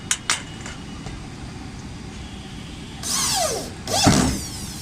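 A power screwdriver drives screws into a steel building, with two quick clicks followed by two rising, whining bursts of the motor, loud and close against quiet background noise.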